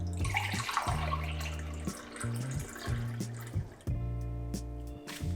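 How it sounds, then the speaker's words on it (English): Coffee pours from a glass Chemex pitcher into a mug in a steady liquid stream, close and fairly quiet, with a low tonal hum running underneath. "there's a scene where I am pouring the coffee out into a mug"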